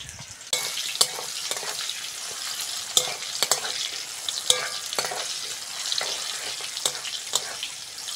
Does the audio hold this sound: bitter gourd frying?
yes